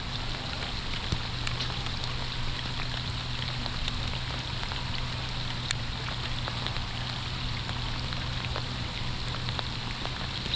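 Steady rain falls on the Minnesota River during a smallmouth bass fishing trip, a constant even hiss of drops on water with a low hum underneath and no speech.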